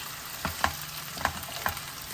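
Potato pieces fry in a pan, a quiet even sizzle with three evenly spaced crackling pops standing out.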